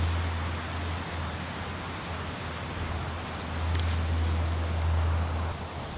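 Steady wind roars across an open golf course in a continuous low rush, swelling slightly toward the end, with no voices heard.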